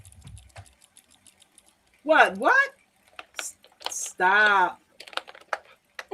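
Plastic keyboard fidget toy on a key ring gives scattered light clicks, close by, between and under bursts of excited talk from several people.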